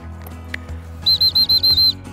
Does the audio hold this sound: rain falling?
no